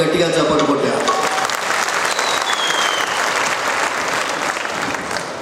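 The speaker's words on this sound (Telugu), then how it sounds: "ఇంకోసారి కేశవన్ గురుస్వామికి గట్టిగా చప్పట్లు కొట్టారు." A crowd at an Ayyappa Maha Padi Puja gathering claps loudly and steadily for several seconds, a dense, close wash of applause that fades slightly toward the end, with a voice briefly audible at the start.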